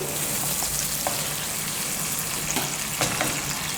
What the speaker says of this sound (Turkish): Evet, kıymamız, soğanımız ve biberimiz kavruldu.